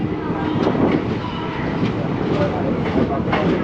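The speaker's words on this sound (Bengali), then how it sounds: "তারপর ট্রেনটা আলুয়াবাড়ি স্টেশন ছেড়ে বেরিয়ে যাচ্ছে" The Uttarbanga Express pulls out of Aluabari station, a dense, steady rumble of wheels and carriages with faint rhythmic clatter, heard close from inside the train, with voices mixed in beneath.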